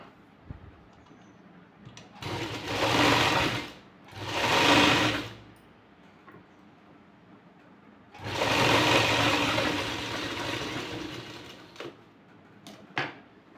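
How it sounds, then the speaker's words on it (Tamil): Stitching along a blouse neckline, a sewing machine runs in three close, distinct bursts: two short runs, then a longer one of about four seconds, with quiet pauses between. "இந்த லைனை அப்படியே அடிச்சு அடித்து தைக்கலாம்"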